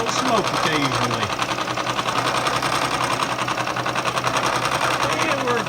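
A milling machine's carbide insert cuts a steel gear rack, making a fast, steady, rhythmic chattering buzz with a constant mechanical hum beneath, close and continuous while a person talks over it.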